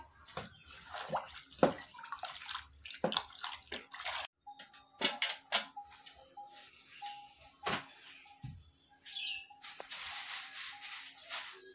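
Water sloshing and splashing in a bucket as it is mixed for mopping the floor at home, with irregular bursts, drips and clunks, close by.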